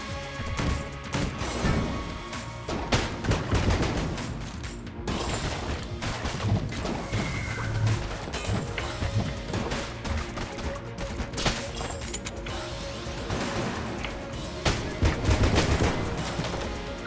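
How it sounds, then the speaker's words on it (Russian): In the video game Enter the Gungeon, a trash can enemy shoots garbage amid a dense, continuous barrage of rapid gunfire, crashing impacts and smashing hits that stay loud and busy throughout. "Ну типа это мусорный бак, который стреляет отходами"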